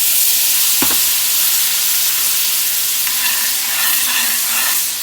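Flour and stewed tomatoes sizzle and bubble in a hot pan while gravy is made, a steady loud frying hiss with occasional stirring scrapes, close up and without talk.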